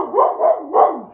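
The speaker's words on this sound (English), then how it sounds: "But it turns out the dogs do bark, and when they get going, they'll just keep on going" Dogs bark repeatedly in three loud, close, clipped bursts with no voices present, as when a neighbor's dogs get going and keep barking on and on.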